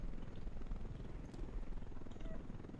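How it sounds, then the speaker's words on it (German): An enemy helicopter in the video game Ghost Recon Wildlands: a low, steady rotor thrum throughout, moderately distant, with faint background sounds. "Feindlicher Heli!"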